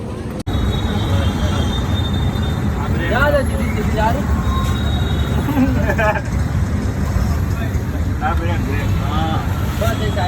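An auto-rickshaw rides through busy Kalupur traffic, its steady engine rumble and road noise loud and close throughout while passengers talk and passing vehicles sound around it.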